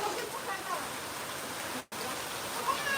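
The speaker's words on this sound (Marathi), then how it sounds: "आता हे फक्त नॉर्मल इथं फक्त पत्र्याचं पाणी चालू आहे" Rainwater runs off a tin sheet roof in a steady, soft patter and trickle, with a brief dropout partway through.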